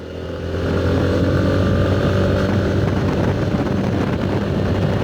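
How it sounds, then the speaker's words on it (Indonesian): A motorcycle engine drones steadily close alongside on a night road in Purwakarta, a loud continuous hum with heavy wind buffeting throughout and no talking. "Oh ada motor barengan."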